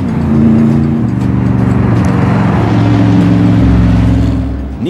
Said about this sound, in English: the occasional low-flying supercar